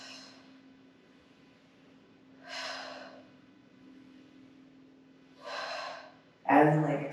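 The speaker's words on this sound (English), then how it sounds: "Nice deep exhales." Deep, breathy exhales during a Pilates reformer workout come in three spaced, audible puffs over a quiet room with a faint steady hum, the last one sharper and louder, like a gasp.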